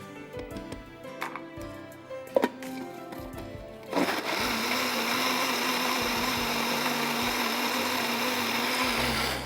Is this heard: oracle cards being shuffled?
no